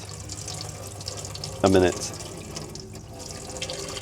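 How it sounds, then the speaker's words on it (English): Water from a motorhome tap briefly splashes into a spoon, a short loud gush lasting under half a second amid quiet room tone, with a voice speaking around it. "So what I do is just fill up with a wee bit of water."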